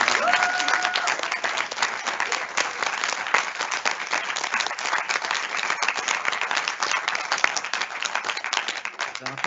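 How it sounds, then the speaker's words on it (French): A crowd applauds steadily with dense, continuous clapping throughout, while a voice speaks briefly in French at the start, at a school exhibition. "Je pense qu'on va les applaudir une fois de plus."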